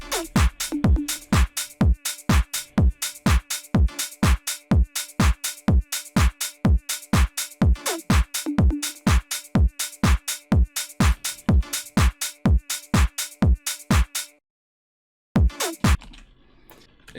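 A dry tech house electronic drum loop plays a steady kick, hi-hat and clap pattern at a brisk even tempo, then briefly cuts out before restarting.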